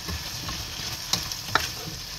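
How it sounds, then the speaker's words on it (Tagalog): White radish stirred and sautéed in a pan makes a steady close sizzle, broken by two sharp scraping clicks of the stirring utensil, with no voices. "Nilagay naman natin ang labanos na puting-puti. Hinahaluin natin para sila yung magsama-sama."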